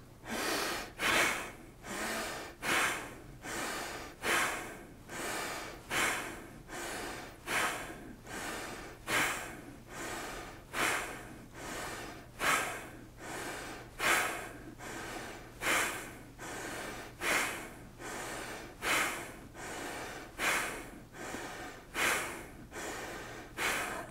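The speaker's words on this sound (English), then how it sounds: "Close your eyes, sit still, and we're gonna do 30 breaths." Deep, rhythmic breathing during a one-minute breathing meditation, about thirty strong, forceful breaths in steady succession, close and clear with no talking.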